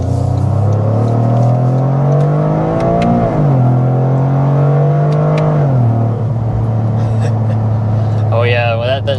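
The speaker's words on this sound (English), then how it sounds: "no matter what drive mode you're in, you can always hear that turbo flutter as well" A 2025 Toyota GR Corolla with an automatic transmission drives along, its engine drone rising and falling through gear changes, ending in a brief fluttering turbo chirp.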